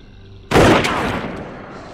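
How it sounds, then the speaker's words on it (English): A sudden loud gunshot cracks out at close range, one sharp blast that rings and fades into a reverberant tail. "Shots fired."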